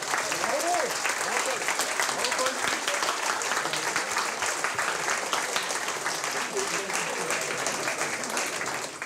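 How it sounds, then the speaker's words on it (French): Steady, dense applause from an audience honoring the winner of a French dictation contest, loud and continuous throughout with a faint voice briefly underneath. "On peut l'applaudir."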